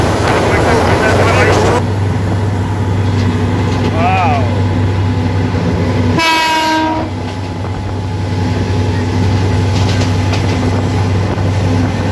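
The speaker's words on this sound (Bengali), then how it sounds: "আর ফ্রন্টের ক্যামেরা দিই, এই হচ্ছে ট্রেনটা, কোথা দিয়ে যায়, যে ট্রেন চলেছে" A train heard from inside the engine room: loud constant engine drone and rumble throughout, with a brief rising tonal whine partway through and a strong horn-like blast in the middle, while people talk over it.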